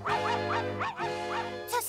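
A cartoon dog in a Smurfs episode barks and yips in a quick run of several short, bouncy calls, close and clear, with no talking over them.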